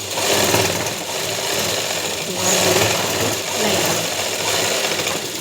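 A sewing machine stitches a seam on straight-cut pants, running in a steady, rapid rattling chatter that swells and eases slightly in loudness, close and continuous.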